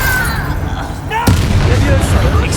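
A Confringo spell explosion in Hogwarts Legacy bursts out abruptly midway as a loud booming blast, following a cast spoken in a game voice, with combat ambience running beneath.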